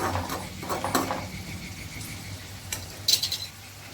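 Beetroot sautés in a pan, with a few sharp spoon scrapes and clinks against the metal over a faint sizzle.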